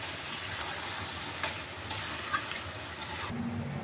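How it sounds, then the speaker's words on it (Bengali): A spatula stirs ivy gourd curry with coriander leaves in a pan, producing soft scraping and light sizzling with a few taps against the metal, quiet and close. "ধনে পাতাটা দিয়ে একটু নাড়াচাড়া দিয়ে নামিয়ে দেবো"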